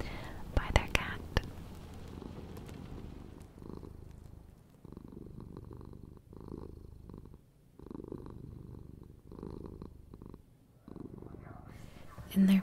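A cat purrs softly at a friend's house in Concord, Massachusetts, a low rhythmic rumble in close, repeated bursts with short pauses, after a few clicks and rustles at the start.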